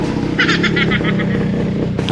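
A motorcycle engine runs close by on a rain-wet road, giving a steady low drone that swells briefly in a short burst of revving.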